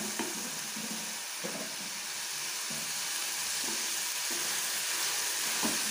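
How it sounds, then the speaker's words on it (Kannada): Onions and tomatoes fry in a pan for egg bhurji, giving a steady close sizzle with a few soft stirring scrapes and clinks throughout. "ಇವಾಗ ಟೊಮೆಟೊ ಚೆನ್ನಾಗಿ ಕುಕ್ ಆಗೋವರೆಗೂ ಬಿಟ್ಬಿಡಿ ಇದನ್ನು"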